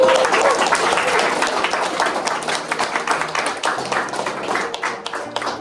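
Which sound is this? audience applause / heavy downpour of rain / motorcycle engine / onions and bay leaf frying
audience applause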